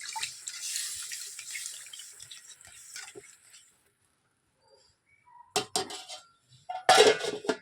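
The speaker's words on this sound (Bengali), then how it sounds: "এবার দেখুন আমি জলটা দিয়ে দিলাম বেশি করে জলটা দিলাম" Water is poured into a cooking pot of taro and potatoes, with a soft splashing run at first, then a quiet pause, followed by clinks and clatters of the pot and utensils.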